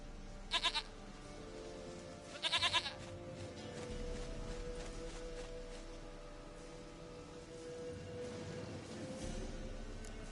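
Two short bleating bursts from a goat in The Witcher video game, the first near the start and the second a couple of seconds later, heard over a steady low ambient game hum with no talking.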